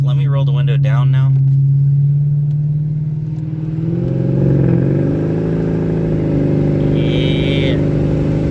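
Straight-piped Mercedes E500 exhausting while driving, a loud steady low drone heard from inside the car that swells briefly with throttle, with someone talking over it at the start.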